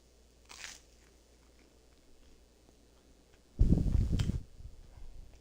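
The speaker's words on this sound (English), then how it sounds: "I'm just eating some of this so you don't have to hear me chewing as much." Toast being crunched and chewed while eating, two short crisp bites close to the mic, the second louder and longer, in an otherwise quiet room.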